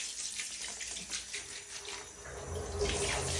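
Water runs steadily from a tap while a shower is being washed, a continuous splashing hiss that swells slightly toward the end, with no talking.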